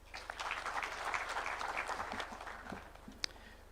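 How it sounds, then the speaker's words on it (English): A crowd claps together in a brief burst of applause, fairly faint and distant, tapering off after a few seconds. "Please, let's clap for that."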